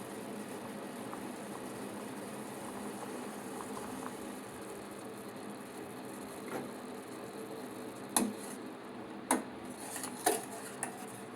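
Black coffee boils in a pot on the stove with a steady soft bubbling, and near the end a few sharp metallic clinks come from the stirring spoon. No one speaks.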